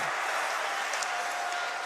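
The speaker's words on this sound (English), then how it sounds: "You can hear the North Attleboro student section cheering very loud" The North Attleboro student section cheers loudly in an echoing rink at a boys' high school ice hockey game against Attleboro, making a continuous, dense crowd roar that blurs into one washed-out wall of sound.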